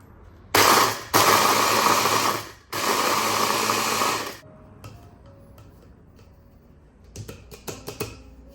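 A pack of biscuits being ground: three loud, close grinding bursts in quick succession, each lasting about a second or more, followed by quieter scattered clicks and rattles.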